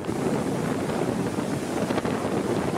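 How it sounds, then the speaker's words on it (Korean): Strong sea waves surge against the rocks at Yeonggeumjeong in Sokcho, a dense, continuous roar of surf with wind buffeting the microphone, loud and close with no voices. "연금정 일대에 바위가 많다 보니까 파도가 더 강하게 몰아치는 것 같았고 소리도 웅장합니다"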